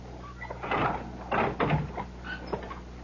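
A door opens or closes in a radio drama scene, a short muffled clunk and creak close by, with faint background noise and no talk.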